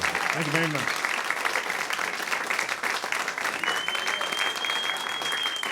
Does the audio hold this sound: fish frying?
no